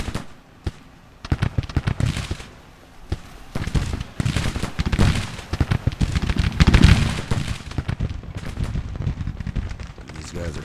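Civil War battlefield artillery from the Grand Tactician game keeps booming, with many sharp reports and crackling volleys in a ragged, uneven rhythm, some near and loud, others distant, and faint voices now and then.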